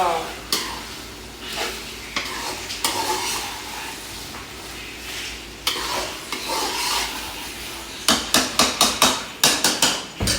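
A spoon stirs and scrapes a masala mixture in a cooking pot, giving repeated close clinks and scrapes over a low sizzle, with a quick run of sharp metallic knocks near the end.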